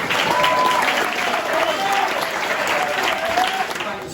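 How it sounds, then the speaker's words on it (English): Students and staff at a school end-of-term assembly clap in a thick, continuous round of applause that stays loud throughout, with voices talking over it. "I would like to give you a big round of applause"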